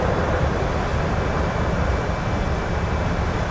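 An airplane on final approach through a storm in Microsoft Flight Simulator, with a loud, unbroken roar of engine and rushing wind that stays steady and close throughout.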